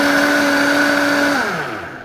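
A blender purees a shake, whirring with a steady loud motor whine that winds down and fades as it switches off near the end, with no voices.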